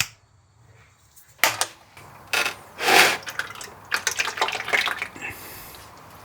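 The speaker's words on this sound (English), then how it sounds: "we'll remove this plug and the oil will shoot out in this direction" Engine oil drains from an unscrewed drain plug on a Mazda, a close splashing, gurgling liquid stream that begins abruptly and pours on unevenly.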